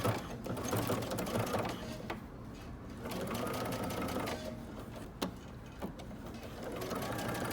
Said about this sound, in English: And now I'm going to stitch close to the edge here, and I'm going to be pulling my coils back as I sew.